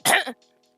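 One short, rough cough close by, then near silence.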